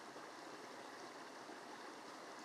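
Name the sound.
running water in a forest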